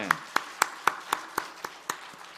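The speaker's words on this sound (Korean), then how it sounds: "우리 저 수연에 있다고 그냥 와, 박수 한번 쳐주죠." A church congregation claps in a brief burst of evenly spaced, sharp claps, about eight or nine in a row, fairly light and close.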